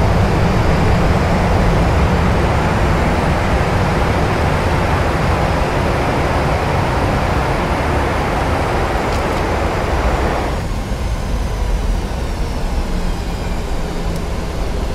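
Roaring broadband rush of PMDG 737NG thrust reversers and deployed speed brakes during landing rollout in a flight simulator, a loud steady wash of engine and wind noise that drops in intensity partway through.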